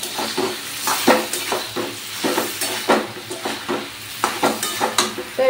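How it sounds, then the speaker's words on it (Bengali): Pointed gourd, potato and boiled soybean chunks frying in a pan with salt and turmeric, a steady sizzle broken by rhythmic scraping and stirring strokes of a utensil against the pan, close and fairly loud. "এখন ভেজে নিচ্ছি পটল আলু সোয়াবিনগুলো"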